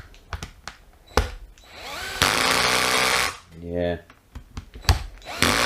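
A freshly rebuilt Worx cordless drill drives screws in bursts: a sharp whir, then a longer loud run, then a stuttering, pulsing stretch as the clutch slips, with tool clicks and a brief word spoken.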